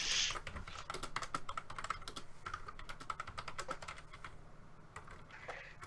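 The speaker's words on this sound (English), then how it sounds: "Are you typing?" Rapid, continuous keystrokes clatter on a computer keyboard during an online tabletop roleplaying session, an irregular stream of close, crisp clicks over faint room hum with no talking.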